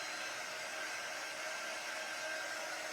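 A hair dryer runs at steady, continuous full blast to dry a spring pennant craft project, a close, unbroken airy whir with no talking over it.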